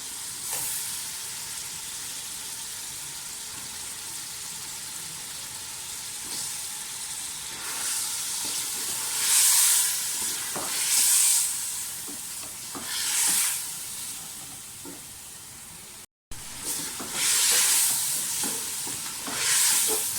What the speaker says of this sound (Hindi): चिकन की भुनाई अच्छी तरह से कर लें